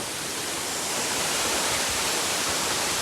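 A dense, constant roar of falling water from a rainforest waterfall in Surat Thani, Thailand, in the rain, loud and close, with no breaks or other sounds.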